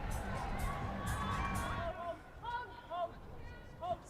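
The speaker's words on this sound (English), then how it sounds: "You can hear the cheer coming from her teammates as well" Teammates cheer and shout after a successful sideline kick at a Canterbury versus Wellington Pride women's rugby semi-final, a loud burst of crowd noise that fades, followed by scattered whistles and calls.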